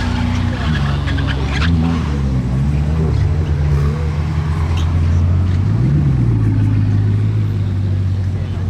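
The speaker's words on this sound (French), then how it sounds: "il a déclenché l'alarme de la DB12 là-bas. Tellement le vrombissement est hard." A loud sports car engine revs hard in the street in Monaco, a deep throaty roar that rises and falls steadily through the clip with a brief surge partway through.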